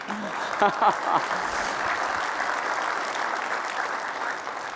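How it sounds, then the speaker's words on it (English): Scattered clapping rises from a conference audience, a thin and fairly soft patter that continues steadily as a voice speaks briefly over it at the start. "Yeah, you can clap."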